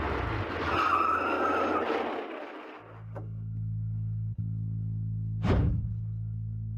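A car brakes hard with a tire screech that fades into a steady idling engine hum, followed by a brief thud and a second sharp squeal near the end; no talking.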